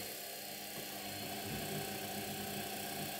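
A washing machine motor hums steadily under load while driven through a speed controller, a continuous mechanical drone with a slight rise partway through and no voices.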